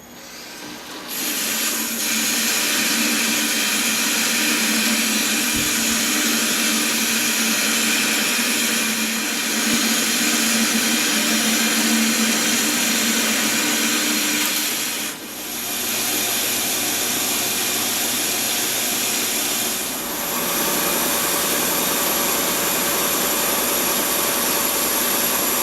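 Metal lathe on a 9x20 (250x550) benchtop machine cutting a 45-degree taper with the top slide tilted, giving a steady loud broadband whirring and cutting hiss that runs continuously with brief dips, no talking.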